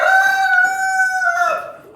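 A Barred Rock rooster lets out one long, loud, sustained crow close by, its tone holding steady before trailing off at the end; the Rhode Island Red hens' clucking is not clearly separate.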